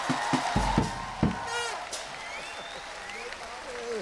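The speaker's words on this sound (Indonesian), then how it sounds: "Kita kasih tepuk tangan dong." In a television studio, a few sharp, separate claps ring out first, then the audience's applause and cheering swell into a softer, mixed crowd sound beneath voices.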